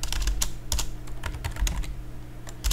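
Rapid typing on a computer keyboard with irregular clustered keystrokes and a few firmer presses like the enter key, close and alone over a low steady hum.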